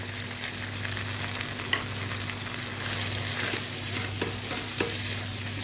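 Liver sizzles steadily in a hot pan as roasted, ground dry masala is stirred in, with a continuous close frying hiss and occasional clinks of stirring throughout.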